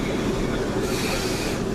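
Train standing or moving at Cheddington station platform, a steady loud rumble with a continuous low hum and hiss throughout, close by, with no clear speech over it.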